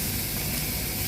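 Chicken sizzles on a barbecue grill, a steady, dense hiss and crackle with no pauses, close and fairly loud.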